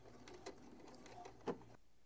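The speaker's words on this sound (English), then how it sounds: "I'm sewing this corner piece" Sewing machine stitching along the corner of a small fabric piece, a very quiet, brief run of soft mechanical ticking with a couple of sharper clicks near the end.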